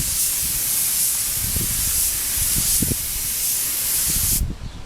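A spray gun laying down a second coat of paint on a Suzuki track bike fairing outdoors, a loud continuous close hiss with wind rumbling underneath, cutting off abruptly at the end.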